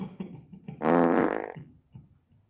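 A fart noise blurts out once, loud and close, a buzzy rasp lasting under a second with a tapering tail, surrounded by near silence.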